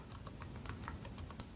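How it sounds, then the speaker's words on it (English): Steady typing on a computer keyboard, quick irregular key clicks close by and fairly quiet, with no talking over it. "And now I'm going to type"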